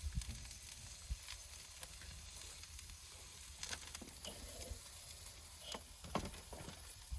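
Mushrooms lightly coated in olive oil and pepper sizzle on a South African braai barbecue, a faint, steady frying hiss with a few soft crackles.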